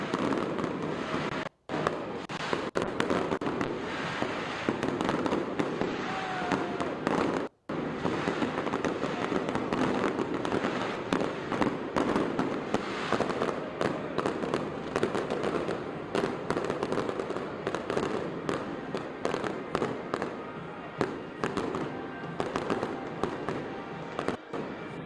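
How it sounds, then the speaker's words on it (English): Fireworks burst continuously at Bricktown Ballpark in Oklahoma City for an opening night celebration, a long, loud barrage of booms and crackles with only a couple of brief gaps. "Goodness gracious, what a fireworks show at the Bricktown Ballpark"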